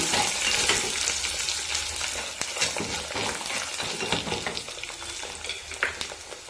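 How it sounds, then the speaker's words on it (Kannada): Dried red chillies fry with popped mustard seeds in hot oil for a tamarind gravy, a dense close crackling sizzle with scattered sharp pops and light utensil clinks, no talking. "ಈಗ ಒಣಮೆಣಸಿನ್ಕಾಯಿ ಹಾಕೋಣ. ಇದನ್ನು ಹಾಕಿ ಸ್ವಲ್ಪ ಫ್ರೈ ಮಾಡೋಣ."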